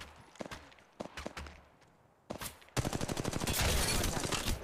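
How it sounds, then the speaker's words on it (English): Gunfire in the mobile battle royale shooter Apex Legends Mobile: a few scattered sharp shots at first, then a dense, loud burst of rapid automatic fire that keeps going to the end. "Getting shot at. Opening fire."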